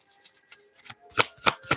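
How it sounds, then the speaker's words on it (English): Tarot cards being shuffled by hand: a few soft riffling bursts, the last three loudest and evenly spaced, alone without talk. "I'll put them back in randomly and shuffle again."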